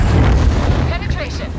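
A tank cannon fires in a World of Tanks-style battle against an IS-7, a loud booming blast with heavy low rumble that fills the clip, followed by fainter metallic ringing and a voice talking over it.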